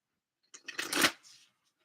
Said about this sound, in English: Gonna look at the Moonology deck.